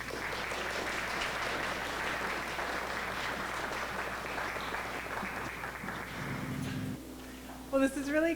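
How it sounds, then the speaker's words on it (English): An indoor audience at a downtown business community event applauds a speaker, a dense, steady wash of clapping that fades near the end as a voice begins. "So please give a round of applause to Emmy"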